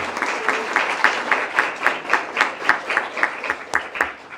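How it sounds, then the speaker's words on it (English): Attendees at a school governing board meeting applaud a staff member in a steady, rhythmic unison clap of about a dozen even beats at a moderate volume, with no talking over it. "So applause for her."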